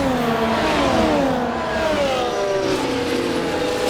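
Max Verstappen's Red Bull Formula 1 car pulling out of the pit lane at the Australian Grand Prix in F1 24, a loud close engine whine rising and shifting in pitch as it accelerates, with no talking.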